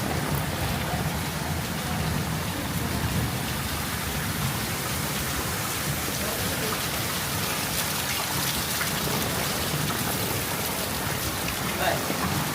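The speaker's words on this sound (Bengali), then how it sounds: "কারণ প্রচণ্ড রকমের বৃষ্টি" Heavy rain pours down steadily and loudly on surfaces, a dense unbroken hiss of drops lasting throughout with no pause.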